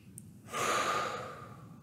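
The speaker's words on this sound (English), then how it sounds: "Take some deep breaths." A single slow, deep breath, audible as a soft breathy exhale that swells and then fades, heard close and alone.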